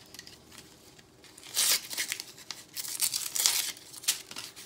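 A package from a craft shop is torn open up close, with bursts of ripping and crinkling paper or plastic between quieter pauses.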